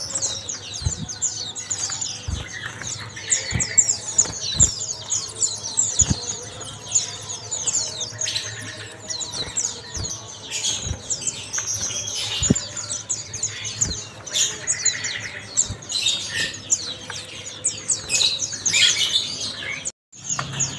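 Many caged songbirds at a bird shop chirp and twitter continuously, overlapping high calls and squeaks filling the space, with faint low knocks underneath.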